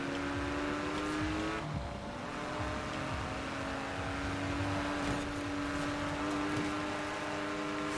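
A Porsche 911 Carrera 2 Guntherwerks in the video game Forza Horizon 4 produces a steady, loud engine drone with a brief dip as the revs shift, then holds high under load throughout.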